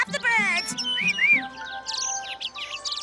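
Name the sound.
birds chirping in a cartoon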